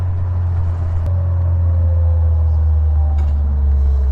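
A Caterham Academy car with a 125 horsepower engine driving on a country road, heard as a loud, steady low engine rumble with a faint rising whine, continuous throughout and without talking.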